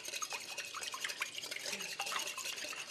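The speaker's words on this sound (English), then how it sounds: "I'm going to put some full cream milk. I'm going to whisk those together" Full cream milk and a pinch of salt being whisked in a bowl: a steady, soft, wet swishing and scraping that runs without a break, close by and fairly quiet.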